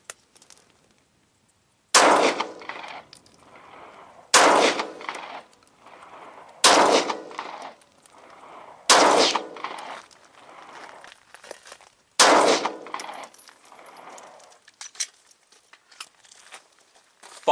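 Smith & Wesson M&P 9 pistol firing five 147 grain 9mm handloads, five loud sharp gunshots spaced about two seconds apart, each with a short echoing tail, no talking.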